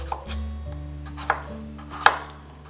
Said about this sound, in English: I'm going to slice up my apples right here